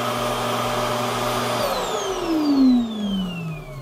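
An InterVac central vacuum system in a coach runs with a steady, loud motor whine and airflow hum, its pitch sliding downward partway through as the suction changes.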